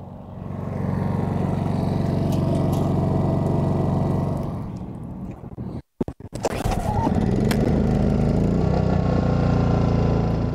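Honda and Generac suitcase portable generators run together, a steady close engine drone with broad hum that dips into a brief gap near the middle, then resumes with some uneven revving and clatter.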